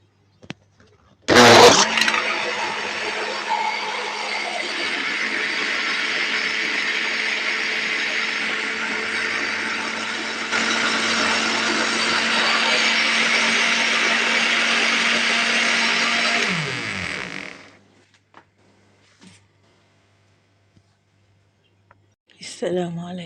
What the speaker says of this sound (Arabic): وادي الخلاط.